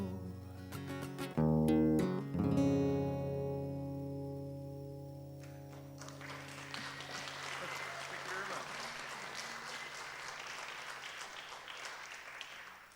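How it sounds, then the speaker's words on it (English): Live concert audience in a church applauding after a song, with a bright whistle from someone in the crowd; the clapping swells and continues steadily after the final music fades, moderately distant. "thank you to whoever's like whistling at the end of during the applause"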